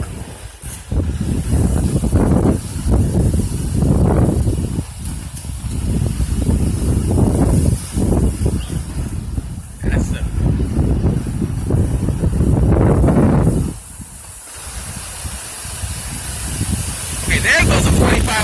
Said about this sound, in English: there goes a 45 mile an hour gust